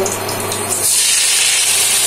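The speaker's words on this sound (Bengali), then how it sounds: "3 থেকে 4 মিনিটের জন্য ভালোভাবে ভেজে নেব।" Tiger prawn heads seasoned with turmeric and salt fry in hot oil in a frying pan, a loud close hiss that swells into a bright, steady sizzle after a moment.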